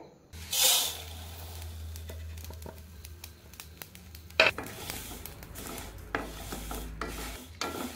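Spices dry-roast in a pan for olive pickle: dry scraping and rustling, steady sizzling-like texture with a sharp clatter midway and occasional stirring scrapes throughout.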